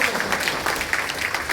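An audience at a seminar applauds loudly, a dense, close burst of clapping that lasts a moment.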